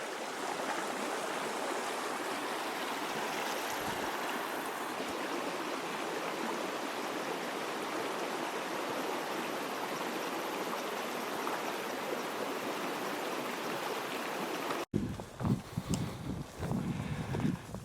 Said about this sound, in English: Nice little creek here for water.